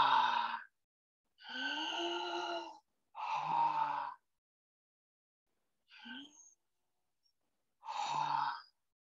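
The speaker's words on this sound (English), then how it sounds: "And it's going to be a full inhale, full exhale for about 5 minutes." Full, forceful breaths drawn in and pushed out through the mouth during a breathwork exercise: four long audible inhales and exhales with pauses between, close and clear, with no talking.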